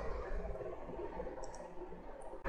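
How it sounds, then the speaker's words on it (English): A computer mouse clicks, with the Ctrl key held, to open a Django web application in a browser; a few faint, light clicks sit over steady low room hiss. "Control plus mouse click"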